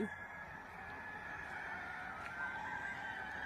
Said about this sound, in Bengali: এই দিক দিয়ে একটি মুরগির খামার আছে, যাদের চিৎকার চেঁচামেচি